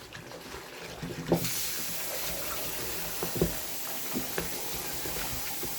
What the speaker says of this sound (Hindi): और अब इसमें हम पानी शामिल करते हैं।